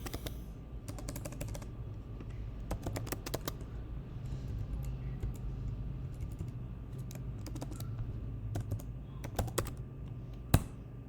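Typing on a computer keyboard in quick bursts of light clicking keystrokes with pauses between them, one firmer tap near the end, over a low steady hum of room noise.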